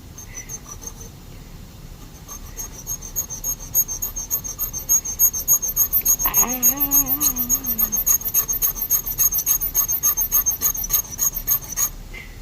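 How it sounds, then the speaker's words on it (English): A dental hand instrument, such as an enamel hatchet or gingival margin trimmer, pressed hard on a sharpening stone gives fast, rhythmic rasping strokes that grow steadier and louder. A brief tonal hum rises partway through. "hear the sound how I am pressing it hard on the sharpening stone to make it sharp"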